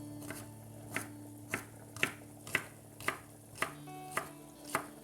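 A knife chops spring onions on a board in a home kitchen, with about ten evenly spaced, crisp close thuds at a steady rhythm against a low background hum.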